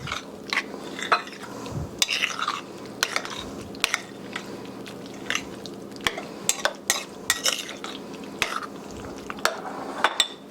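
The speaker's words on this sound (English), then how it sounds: "we're just going to mix them together a little bit" Drained canned peas being mixed in a bowl, with irregular clicks and scrapes of a utensil against the bowl and soft wet shuffling, close and unbroken by speech.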